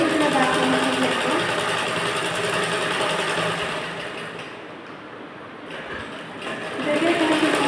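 A sewing machine runs steadily while stitching a round karori blouse, a close continuous mechanical whir that eases slightly in the middle before picking up again, with someone talking over it.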